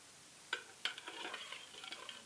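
A spoon stirs homemade lemonade in a container, giving soft clinks and scraping swishes. The sounds start with two sharp taps and then become a continuous, quiet stirring with no voices.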